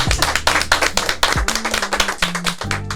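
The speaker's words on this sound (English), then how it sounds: "Can we get a round of applause for that?" Studio audience clapping during a podcast recording, a small group's close, uneven claps in quick bursts, with brief vocal tones underneath.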